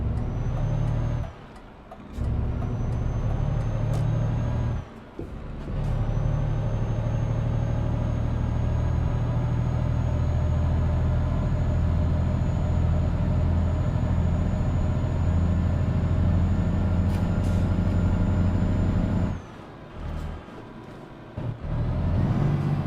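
Truck engine brakes rumble in Euro Truck Simulator 2, a deep, loud, sustained drone under a faint high whine, broken by a few brief drops and pauses.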